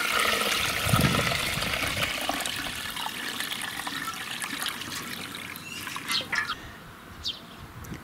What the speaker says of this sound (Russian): Затем наливаю в ведерко нагретую в специальной емкости теплую отстоянную воду.